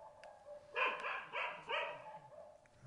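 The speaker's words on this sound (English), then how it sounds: "Is there a dog in the game?" A dog barks several times in quick succession in the PlayStation VR game The Chantry, a series of fairly faint, slightly muffled yips and woofs with no talk over them.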